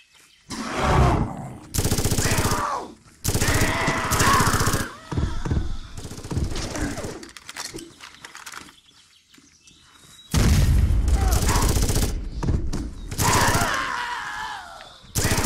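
Gunfire from headshots in the video game Far Cry Instincts: loud, rapid bursts of shots come in repeated clusters with brief pauses, and a quieter stretch in the middle before the heavy firing resumes.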